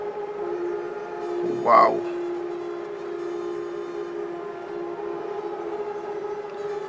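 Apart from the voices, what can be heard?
horns blown outside during traditional Thai ceremony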